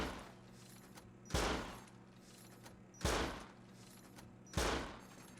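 Auto turret in the Rust video game firing three short bursts roughly every one and a half seconds, each sharp crack followed by a brief decay, with mechanical reloading noises and a low generator hum between shots.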